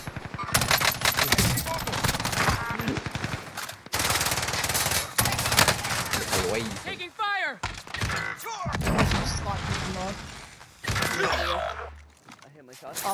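Rapid automatic gunfire from Call of Duty Warzone crackles in dense, repeated bursts with dull thuds, close and loud beneath excited players talking over one another.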